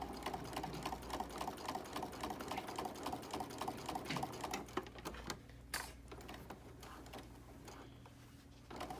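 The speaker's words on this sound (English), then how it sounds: "we're going to start just sewing before the hole, and we're going to lock our stitch there" A sewing machine stitches fabric with a fast, even mechanical clatter, close and steady, then slows and drops to a quieter hum in the last few seconds.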